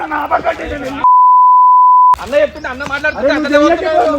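A single steady electronic phone tone holds for about a second, cutting in between stretches of people talking.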